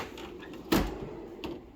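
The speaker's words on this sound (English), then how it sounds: "That was the hand tool drawer." A drawer on a Snap-on Master Series XL 54-inch toolbox opening or closing, a single heavy metallic thud and slide over steady background noise, followed by a softer knock.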